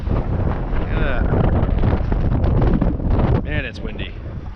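Strong gusting wind on a lake during a crappie fishing outing, a loud steady roar of wind buffeting the microphone throughout, with a voice talking near the end.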